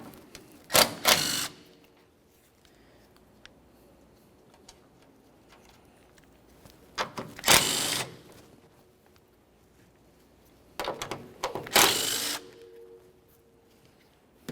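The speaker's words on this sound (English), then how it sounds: "We're only going to loosen this forward nut here and fully remove each of the other 2." Ratcheting wrench with a 14mm socket loosening and removing strut mounting nuts on a 1994-1997 Honda Accord, heard as three separate bursts of rapid mechanical clicking spaced several seconds apart, close and fairly loud with quiet gaps between.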